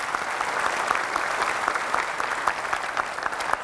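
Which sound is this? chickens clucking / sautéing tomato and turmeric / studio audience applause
studio audience applause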